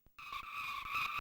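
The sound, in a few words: car skidding and crashing in Formula One Grand Prix Amiga game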